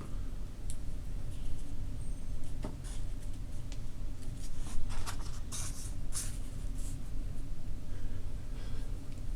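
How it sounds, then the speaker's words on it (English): Marker or chalk scratches and taps on a board during a lecture, a series of faint, irregular strokes over a steady background hum. "let me just write this one down here for a second"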